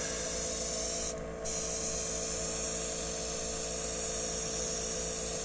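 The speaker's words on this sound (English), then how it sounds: "This is straight black dye from Angelus in the airbrush. And it's just a slow process to go back and forth." Airbrush spraying straight black Angelus dye onto a guitar body: a steady, close, continuous airy hiss with one brief dip, no voices.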